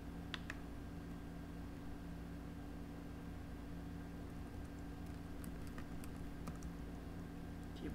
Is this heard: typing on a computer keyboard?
yes